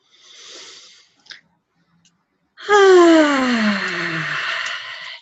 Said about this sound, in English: the breathing, the oxytocin breathing